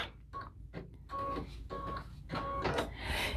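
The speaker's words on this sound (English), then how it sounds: "I'm gonna hit the button to cut the strings, cut the thread" An embroidery machine trims its thread, a few short mechanical whirring and clicking bursts with a faint tonal whine, close by and with no talking.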